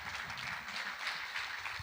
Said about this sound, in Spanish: un caluroso aplauso para el doctor Olmos